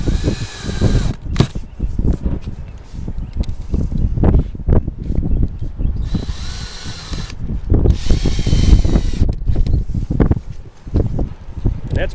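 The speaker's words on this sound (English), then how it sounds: "They're going to run an excess screw in there." Power drill driving screws through a termination bar on a roof curb, heard in repeated bursts of whirring close by with clattering handling noise between runs.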